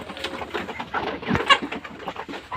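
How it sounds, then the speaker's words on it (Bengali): Chickens cluck and call in short, uneven bursts, close by and moderately loud, with one sharper squawk midway and bird murmurs around it. "আমাদের মুরগিগুলা"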